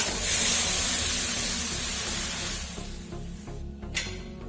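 Boiling water poured into a pan of ghee-roasted vermicelli sends up a loud steaming hiss at first, which slowly fades to a quieter bubbling simmer with a small clink near the end.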